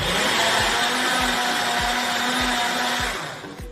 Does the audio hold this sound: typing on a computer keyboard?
no